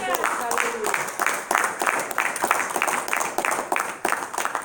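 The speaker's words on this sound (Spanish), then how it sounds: "Denle un aplauso al Señor Jesucristo." A church congregation claps in a steady rhythmic beat, many hands striking together in regular bursts that fill the room throughout.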